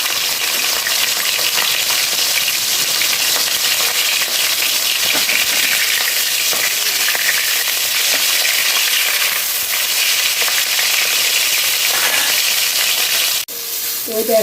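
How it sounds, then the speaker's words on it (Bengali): Fish pieces frying in mustard oil give a loud, steady, close sizzle that runs unbroken throughout, with a brief metallic clink near the end and no voices. "অল্প অল্প করে আমি মাছগুলোকে আগে তেলে ভালো করে ভেজে নেব"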